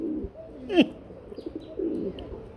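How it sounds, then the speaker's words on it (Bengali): Big red-eyed fancy pigeons cooing, a pair heard close by with a few soft, low coos and one sharp chirp, against quiet background noise. "সেই লেভেলের এক জোড়া ডাকের কবুতর"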